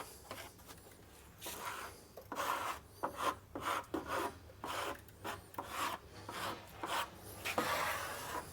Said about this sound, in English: So we're scraping right along the wood.